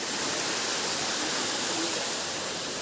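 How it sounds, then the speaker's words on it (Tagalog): Salugsog Falls in Mindoro pours as a steady, dense roar of falling water, loud and unbroken with no voices over it. "Salugsog Falls"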